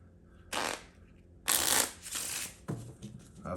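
A deck of playing cards is shuffled during a magic trick, soft close riffling bursts, quick and brief, with no talking.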